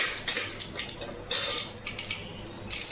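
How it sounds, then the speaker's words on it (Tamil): Chana dal sizzling and popping in hot oil in a pan for upma, a steady close crackle with scattered sharp pops and faint clinks, no voices. "கடலைப்பருப்பு போட்டுக்கலாம். இது பொரிஞ்சு வரட்டும்."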